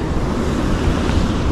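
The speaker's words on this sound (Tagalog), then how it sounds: "Malakas yung alon pero mababaw" Strong ocean surf breaking in shallow water at low tide on an Australian shore, a dense, continuous roar of waves with wind buffeting the microphone, steady and loud throughout with no voices.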